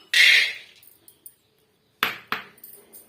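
Half a cup of peanuts dry-roasted over medium heat in a kadai and stirred with a spoon, heard as a loud scraping rattle at the start and then two sharp scrapes with faint clinks between them, with no voices.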